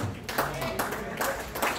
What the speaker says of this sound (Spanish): Si le va a aplaudir al Señor, hágalo con toda libertad